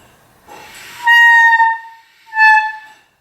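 Two sustained reedy clarinet tones from a beginner, the first longer and the second short, sounding bright and slightly harsh, preceded by a breathy attempt.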